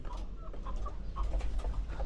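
Pet chickens in a freshly cleaned coop give soft, scattered clucks over a low rumbling background, quiet and close, with no speech.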